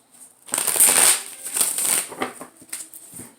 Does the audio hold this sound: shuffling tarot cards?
yes